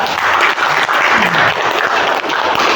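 Classroom applause from a twelfth-grade civics class, a steady wash of many hands clapping together, fairly loud and continuous throughout with no talk over it.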